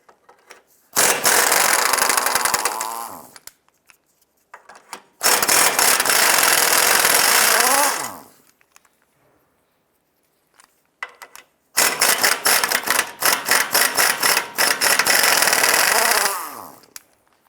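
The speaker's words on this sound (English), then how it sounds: "Let's now go ahead and remove these two nuts and this bolt right here." Power tool or impact wrench removing two nuts and a bolt from the ball joint of a 2006–2011 Honda Civic, in three loud, rattling bursts of a few seconds each, separated by short near-silent pauses.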